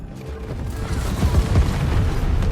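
Trebuchet bombardment of an artillery unit in the real-time strategy game Tempest Rising: a rolling series of deep, heavy booms and impacts rumbling continuously at moderate distance with no pause.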